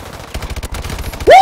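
Rapid-fire gunfire from the KF5 rifle in Call of Duty: Advanced Warfare, a fast close string of shots, then a loud sustained tonal blast at the end.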